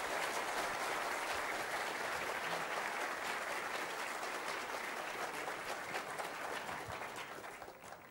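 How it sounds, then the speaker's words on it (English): Audience applause for two presenters after a climate debate at a conference hall, sustained even clapping from a large crowd that holds steady and fades at the end. "Dr. Spencer, please, a round of applause for both of our presenters."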